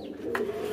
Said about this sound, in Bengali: এই যে আমাদের দামাচিং কবুতরটা দেখেন